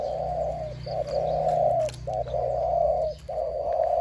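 Repeated mellow cooing calls from a bird, several phrases in a row with short pauses, close and fairly loud over a low steady hum.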